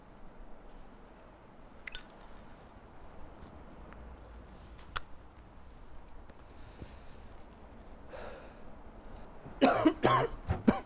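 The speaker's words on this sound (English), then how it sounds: "Should get that cough checked out." A few coughs and throat noises near the end, loud and close, following a long quiet stretch with faint clinks and scattered small noises.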